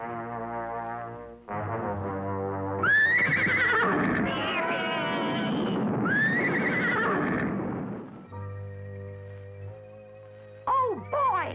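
A cartoon horse whinnies in two loud, drawn-out neighs over a held musical chord, with hoof clip-clops mixed in and a brief squeaky sound effect near the end.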